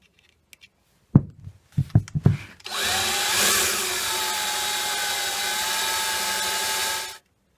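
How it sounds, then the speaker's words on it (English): Several short clicks and bursts come first, then a power drill with a small bit bores into wood near a vintage table saw stand in one steady whine for about four and a half seconds before it stops. "I'm going to go ahead and try the smaller bit here and work up from there."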